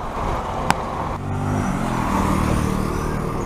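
City bus R3 pulls in on a Chiang Mai street, its engine rumbling louder as it nears over steady traffic noise, with a brief sharp click near the start.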